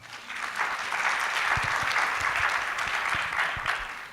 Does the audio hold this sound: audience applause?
yes